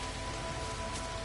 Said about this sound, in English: The toxic rain is coming thick and fast.